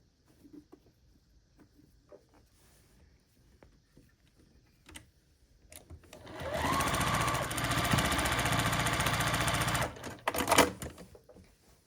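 A sewing machine stitches the last two seams of a Florence quilt block, running in a steady burst of rapid mechanical whirring for a few seconds after quiet handling noises, then a short second run.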